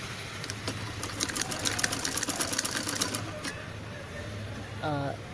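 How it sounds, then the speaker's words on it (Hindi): A sewing machine double-stitches the shoulder joint of a layered children's party dress, running in a steady, rapid whirring stream for about three seconds before stopping; a brief voice is heard near the end. "और शोल्डर हम अंडर पिकिंग जॉइंट कर रहे हैं एक, और इसको हम डबल स्टिचिंग करेंगे"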